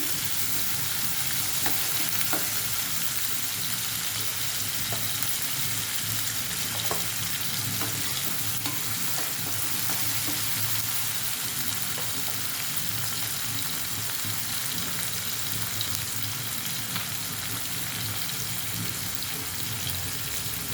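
Curry leaves crackle and sizzle in hot oil in a pan as carrot vellulli fry is made, a continuous close frying hiss with occasional pops and stirring clinks throughout.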